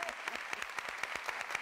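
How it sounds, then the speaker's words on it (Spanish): Studio audience applauding on a live Argentine television talk show as a government minister is welcomed; dense, steady clapping from many hands, moderately loud and continuous throughout. "Fuerte el aplauso, vamos"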